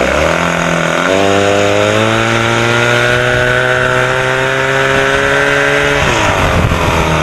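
A 1976 Evinrude 25 hp outboard motor runs loud and close. It revs up sharply near the start, holds a strained, steady buzzing whine, then drops off abruptly near the end.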